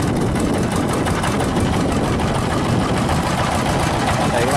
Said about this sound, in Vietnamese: Máy tời mấy anh đang lôi xuống này.